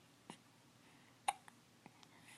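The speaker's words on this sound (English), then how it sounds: "Are the hiccups interfering with the story?" Soft hiccups, one sharp one and several smaller ones spaced irregularly, close and quiet with no talking over them.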